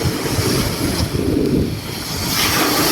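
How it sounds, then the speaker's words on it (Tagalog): Large waves from Manila Bay surge and wash onto the beach in a continuous roar, with strong wind buffeting the microphone throughout. "lalaki ng alon"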